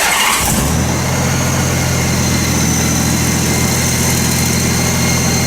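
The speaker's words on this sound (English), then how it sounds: "we're going to go ahead and start the engine and let the oil run through the" A 2006 Honda Gold Wing motorcycle engine cranks briefly, then catches and settles into a loud, steady, smooth idle close by.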